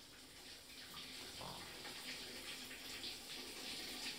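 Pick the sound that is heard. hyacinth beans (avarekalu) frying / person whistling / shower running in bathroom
shower running in bathroom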